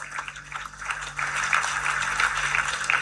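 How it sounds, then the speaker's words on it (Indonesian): Crowd applause for school students at a presidential speech: a dense wash of many hands clapping, starting softer and swelling louder after a second, steady and continuous with no speech over it. "mari kita beri tepuk tangan kepada anak-anak siswa-siswi sekolah rakyat"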